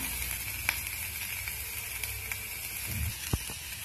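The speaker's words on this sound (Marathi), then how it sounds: "कांदा परतताना अर्धा चमचा तेल टाकायचं आणि कांदा असा छान परतून घ्यायचा।" Sliced onion frying in a little oil in a pan, giving a steady close sizzle with occasional soft scrapes and taps as it is stirred.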